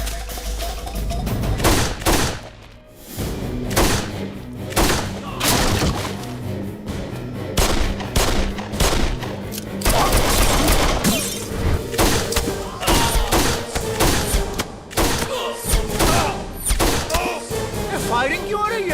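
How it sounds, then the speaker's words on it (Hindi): Gunfire erupts in repeated loud bursts, sharp cracks and thuds packed close together over a dense, chaotic din, with voices shouting in between. "गोली क्यों चल रही है?"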